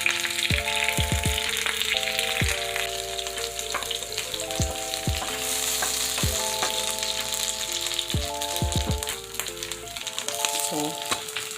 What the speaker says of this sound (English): I'm just melting some butter here